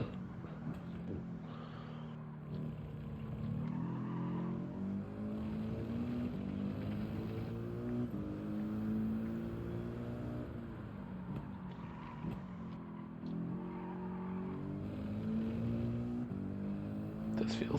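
Genesis race car engine in GT7, a droning motor rising and falling in pitch through gear shifts as it laps the track, with a voice talking over it.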